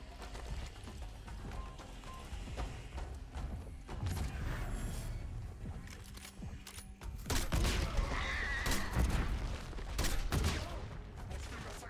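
Gunfire in the Black Ops 7 campaign, aimed at a growth on a plant: dense, rapid bursts of shots and thuds run throughout and grow louder and heavier toward the end.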